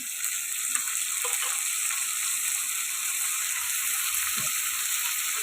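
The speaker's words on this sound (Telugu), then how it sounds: "ఇప్పుడు కట్ చేసి పెట్టుకున్న వంకాయలు కూడా వేసుకోవాలి" Sliced eggplant cooking with tomatoes in a pan for gongura eggplant curry, giving a steady, soft, continuous sizzle that stays even throughout, with faint scattered clicks and no talking.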